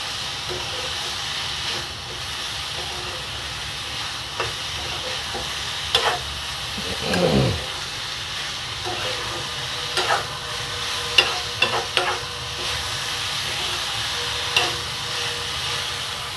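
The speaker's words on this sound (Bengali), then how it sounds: "এভাবে ভালোভাবে নেড়ে চেড়ে দেব যাতে হলুদ এবং লবণ চতুর্দিকে সুন্দরভাবে মিশে যায়।" Yardlong beans and potato pieces with turmeric and salt are stirred in a frying pan, a steady sizzle and hiss running throughout with scattered scraping clicks of the spatula and one louder scrape near the middle.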